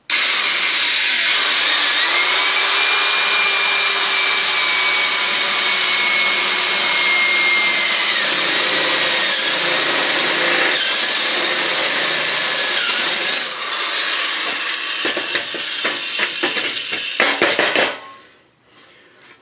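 A power tool whines loudly and steadily while drilling holes in a garage, its pitch dipping and recovering a few times under load, followed by a burst of knocks and clatter before it winds down.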